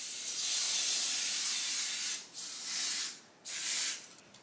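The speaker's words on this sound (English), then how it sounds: "when you spray it down, it's gonna melt like butter" Spray bottle misting a Swiss lace wig's lace to bond it down, three long hissing bursts close by with short pauses between them, no voices.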